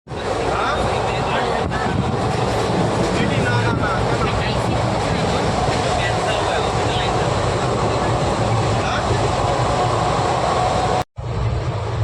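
A passenger train running from Tatanagar to Durg, heard from inside as a loud continuous rumble and rattle with wind roar, cutting out briefly near the end before resuming.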